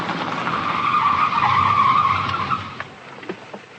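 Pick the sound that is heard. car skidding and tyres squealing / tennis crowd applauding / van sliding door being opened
car skidding and tyres squealing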